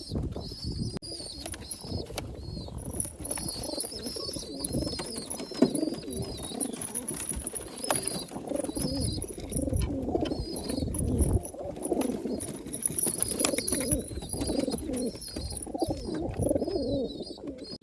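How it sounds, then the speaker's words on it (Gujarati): Pigeons gathered in a loft cooing repeatedly, soft throaty low calls overlapping near and far amid rustling wings and higher chirps, with no talk. "એટલે બહુ કબૂતર આવે છે અહીંયા"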